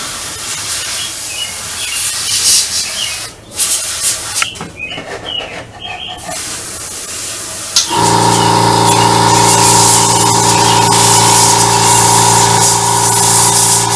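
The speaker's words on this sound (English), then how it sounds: "the compressor going off in the background" An air compressor in a workshop starts up partway through and settles into a loud, steady droning hum. Before it starts there is hissing and some faint birdsong, and no one speaks.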